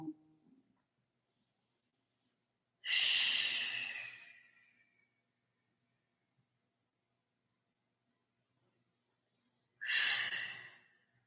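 Long yoga exhales during a morning vinyasa flow practice, two slow, breathy releases of air separated by quiet, each swelling quickly and then fading, close and soft with no talking.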